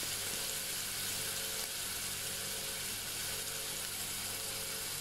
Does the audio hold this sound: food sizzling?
yes